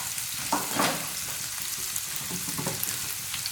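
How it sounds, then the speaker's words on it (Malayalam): Chopped ginger and garlic sizzle in hot oil over a high flame, a steady close crackle with a few stirring scrapes and spatters, no voices. "ഇപ്പോൾ എണ്ണ ചൂടായിട്ട് വന്നിട്ട് നമുക്കിതിലേക്ക് ഒരു ചെറിയ കഷ്ണം ഇഞ്ചി മുറിച്ചത് ഇട്ട് കൊടുക്കാം"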